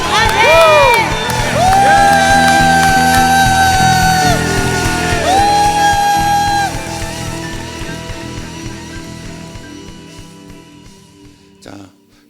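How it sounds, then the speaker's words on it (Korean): A church congregation at a Friday service raises a loud victory shout, with yells and whoops swelling at first and then gradually dying away, mixed with sustained music. "승리 함성을 주님께."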